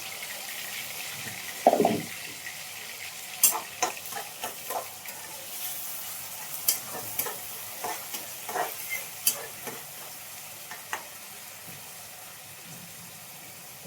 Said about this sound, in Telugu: ఉల్లిగడ్డ పేస్ట్ వేసుకోవాలి. ఆయిల్ కొంచెం ఎక్కువ వేసుకోవాలి